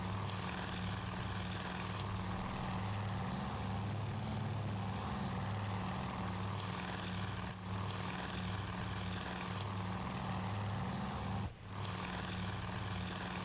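Propeller engines of Zero fighter planes in a video game air battle drone loudly and steadily, a dense continuous roar with a low pulsing hum and brief dips, with no talking.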